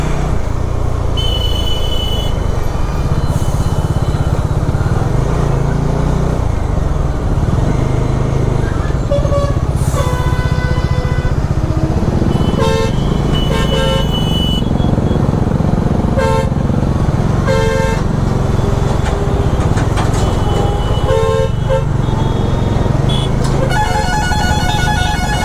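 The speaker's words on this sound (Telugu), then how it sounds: "ట్రాఫిక్ అసలు చాలా దారుణంగా ఉంది" Heavy highway traffic jam with lorries on the road between Aurangabad and Hyderabad, heard from a motorcycle. A dense engine roar runs throughout, broken by repeated close car and truck horn toots.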